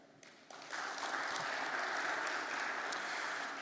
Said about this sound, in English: So please give a warm round of applause to Mr.